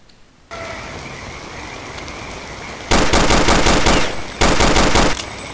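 Counter-Strike: Condition Zero machine gun fire, loud rapid automatic bursts in two long volleys over a steady background hiss of game ambience.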